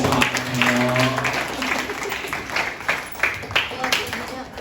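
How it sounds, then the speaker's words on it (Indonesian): Children applaud during a storytelling lesson, a dense scatter of small hands clapping steadily and fairly close, with voices mixed in at the start and the claps growing more uneven toward the end. "Tepuk tangan dulu."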